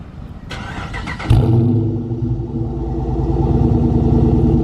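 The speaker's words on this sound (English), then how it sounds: "this is the way the exhaust sounds now. Let's go ahead and give it a warm start." A Dodge Charger R/T fitted with a Corsa Xtreme exhaust warm-starts nearby: a starter whirrs, the V8 catches with a loud bark, then settles into a deep, rumbling idle.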